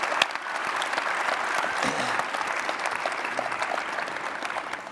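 Audience at a SXSW startup panel applauding the people on stage, a sustained, dense round of clapping with a faint crowd murmur beneath it.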